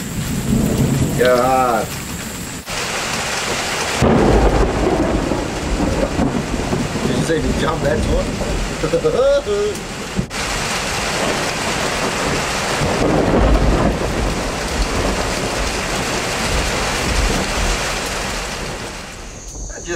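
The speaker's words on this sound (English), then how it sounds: "Just love a good thunderstorm." A tropical thunderstorm passes over a motorhome build site: loud, continuous rain drums on surfaces while deep thunder rolls and rumbles nearby. Someone talks briefly over the storm.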